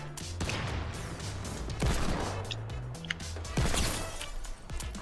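Sharp, repeated gunshots and clattering impacts in the Fortnite battle royale video game, loud and close in quick clusters, with game effects layered in.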